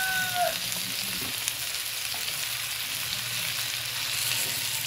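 Chayote pieces sautéing in a pan for a simple stir-fry with cabbage, giving a steady broadband sizzle with faint scrapes of stirring throughout, no talk.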